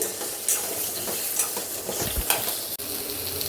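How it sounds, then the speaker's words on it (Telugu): Bottle gourd pieces fry in hot oil for a chutney, a steady close sizzle with continuous scraping stirs and an occasional utensil clink against the pan. "ఇవన్నీ ఆయిల్లో బాగా ఫ్రై చేసుకోవాలి"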